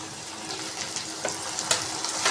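Tomatoes and peas with ginger and chillies fry in oil in a pan, making a continuous close sizzle with small crackles and a few sharper pops and stirring knocks. No voices are heard.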